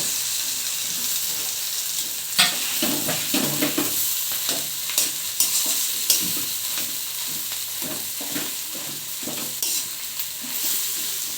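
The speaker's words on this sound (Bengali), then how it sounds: "এইভাবে মিশিয়ে নিব পাঁচ মিনিটের মতো ভালো করে ভেজে নিব" Mashed potato with onion and green chillies stirred and fried in a pan for aloo paratha filling; a steady sizzle runs throughout, with repeated scraping and knocking of the spoon against the pan, close and alone.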